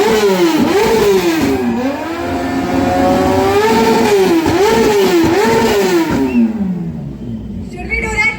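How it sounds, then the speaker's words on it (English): Superbike engines, a BMW GS 1200 and a Kawasaki ZX10R, rev hard in loud rising and falling surges at close range, with voices underneath, before the roar drops away near the end. "Raptor with Kawasaki ZX10R"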